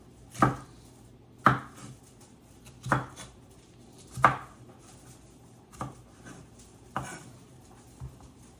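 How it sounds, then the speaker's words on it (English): A knife dicing bell peppers on a cutting board: seven distinct, sharp chopping thuds at roughly one-second intervals, close and crisp in a quiet kitchen with no talking. "And we're just going to give them a quick dice."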